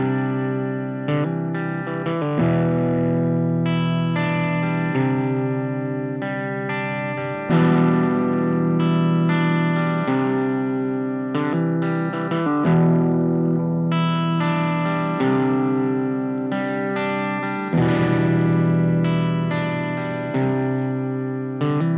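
Electric guitar played through an 8-inch Celestion G8C-15 guitar speaker, sustained distorted chords with effects ringing in repeated phrases, loud and continuous with no talking.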